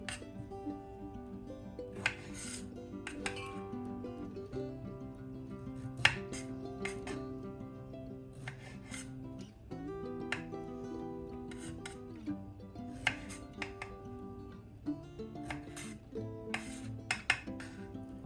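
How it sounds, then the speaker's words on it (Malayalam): Ivy gourd (kovakka) is finely chopped with a knife on a cutting board in a home kitchen. Quick, light taps and clicks come in bursts of rapid strokes with short pauses between them, close and fairly quiet. "കഴുകി വൃത്തിയാക്കിയ കോവയ്ക്ക നമുക്ക് ചെറുതായിട്ട് അരിഞ്ഞെടുക്കാം"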